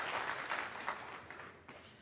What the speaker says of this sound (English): listen to the applause he's getting